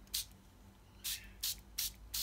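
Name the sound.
spray bottle spritzing water onto Brusho paint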